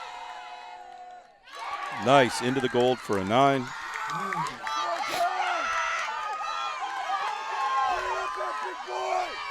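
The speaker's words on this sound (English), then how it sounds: "the cheering in the background makes these events so special and so much fun" Crowd cheering and shouting at a collegiate archery target nationals barebow mixed team gold match, loud whoops and excited voices rising after a shot, with a commentator talking over them.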